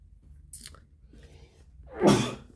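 A single loud sneeze bursts out near the end after a quiet intake of breath, close and abrupt.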